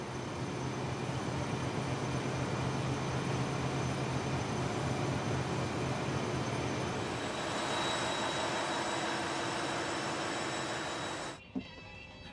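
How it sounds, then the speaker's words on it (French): Machinery runs in the engine room of a large Mediterranean ferry, a dense, continuous roar with steady tonal hums that holds unbroken until it cuts off abruptly near the end. "Son casque laisse passer suffisamment de bruit pour que son oreille reconnaisse le moteur"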